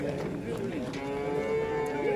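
Cows moo over one another at a crowded livestock market in Kırıkkale, Turkey, overlapping mid-distance calls blending with steady crowd murmur throughout.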